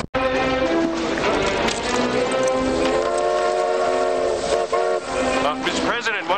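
A train running loud and close, its tonal whistle or horn sounding steadily over rumbling wheels, with voices talking over it.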